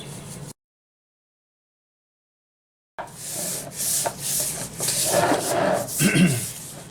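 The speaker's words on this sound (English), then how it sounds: "I rub my ribs." Hands rub seasoning into a rack of baby back ribs before smoking, giving close, steady scuffing and rasping strokes after a brief pause of silence, growing louder and denser toward the end.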